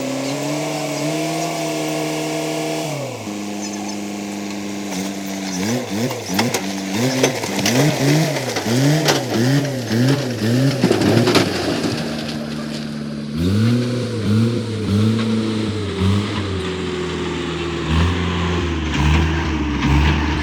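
A truck engine idles, then revs in repeated rising and falling surges as the truck is lifted, later settling back to a steady lower drone, loud and close throughout.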